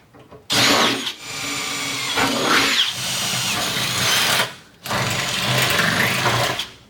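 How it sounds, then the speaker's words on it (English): A power drill whines steadily as it bores through material in two long runs, with a brief pause between them, loud and close. "I'm going to drill all 4 with the smaller drill"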